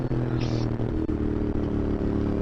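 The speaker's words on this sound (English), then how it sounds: "it sounds like a classic bike, doesn't it?" A classic retro-style motorcycle engine runs steadily at idle nearby, with a low rumbling tone throughout and small clatters and wind buffeting over it.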